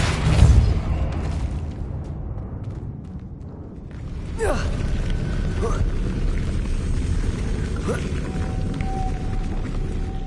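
The Depulso force spell in the video game Hogwarts Legacy is cast over rumbling background ambience, producing a few whooshing bursts and booming pops spaced several seconds apart, with a faint voice in between.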